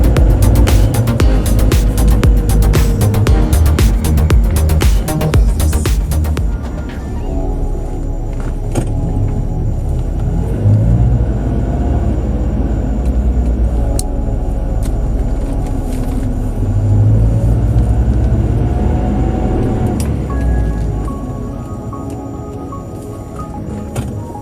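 A car engine pulling steadily in third gear while driving, a loud continuous rumble with road noise, rattly clatter in the first few seconds, then a smoother drone that eases off near the end.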